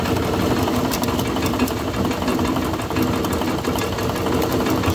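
A 1950 Farmall Cub tractor engine labors while driving a 1940 Meadows grist mill, a loud continuous mechanical drone with a rapid knocking rattle that holds steady throughout.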